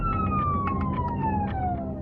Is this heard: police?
yes